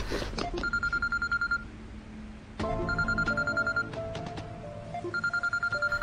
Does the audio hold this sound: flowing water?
no